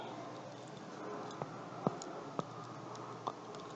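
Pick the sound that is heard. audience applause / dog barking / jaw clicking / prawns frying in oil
jaw clicking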